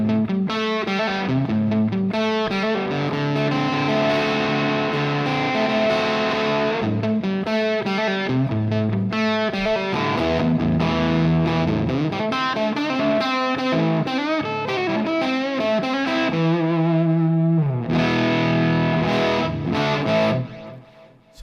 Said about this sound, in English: first up we have the JTM 45 pedal, and right now we've got it set on the jump setting